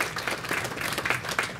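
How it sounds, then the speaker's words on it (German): A congress audience applauds a participant after she speaks, a short burst of steady, moderately loud clapping from a room of listeners. "ein Applaus"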